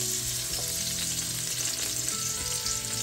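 Hot oil, two tablespoons, fries and crackles steadily in a pan as ginger cooks for a spicy Filipino blue crab dish, a dense, continuous sizzle with a faint scrape or two.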